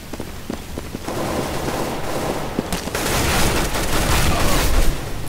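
Rapid gunfire from Counter-Strike: Global Offensive, including an AK rifle, crackles in dense bursts that grow heavier in the second half, sharp close shots layered over a rushing din.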